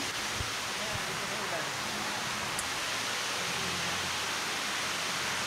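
Steady rain falls at an outdoor church service, a constant dense hiss filling the whole clip with no break, loud and close.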